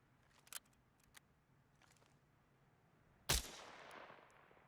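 A single heavy sniper rifle shot fired at a transport vehicle in a video game, a sharp loud crack with a long echoing tail, preceded by faint mechanical clicks.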